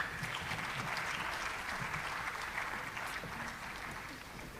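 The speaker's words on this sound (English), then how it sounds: "A round of applause." A concert audience applauds a choral performance of an oratorio, a dense, even wash of clapping that fills the hall at moderate loudness and fades slightly toward the end.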